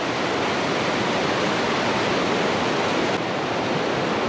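A winter mountain river in Washington rushes in a loud, steady broadband roar of flowing water, continuous and close, with no voices.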